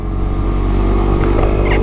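Suzuki GSX-S 125 motorcycle ridden along country B-road lanes, its small engine droning loud and steady with heavy wind rumble, heard close from the rider's position.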